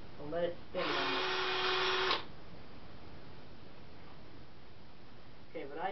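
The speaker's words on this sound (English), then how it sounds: "I just drill two holes for now" An electric drill whirs in one high-pitched burst of about a second and a half, with someone talking before and after it.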